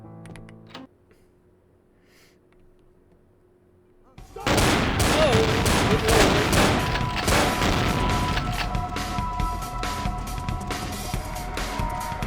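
Gunfire in the Vampire the Masquerade video game: after four quiet seconds, a dense, loud burst of shots and booms erupts and continues steadily to the end, with a voice faintly under the opening.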